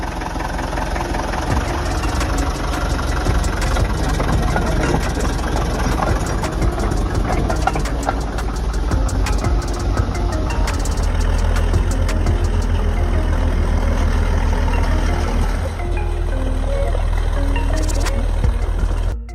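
A Cletrac Model D crawler tractor engine runs at a steady, loud idle, a continuous low rumble with rapid mechanical ticking held evenly for the whole stretch.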